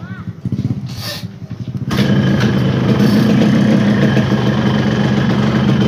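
A Yamaha RX King motorcycle engine runs steadily at close range, a continuous mid-pitched drone that kicks in about two seconds in and holds loud to the end, with someone talking briefly at the start.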